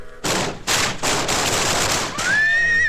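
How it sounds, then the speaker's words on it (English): Firecrackers going off in a 1974 Halloween trick-or-treat cartoon: loud, dense crackling bursts arrive in several rapid-fire waves, and a horse's rising whinny cuts in over the final second. "when those firecrackers went off, they nearly frightened my poor broom right out of the story."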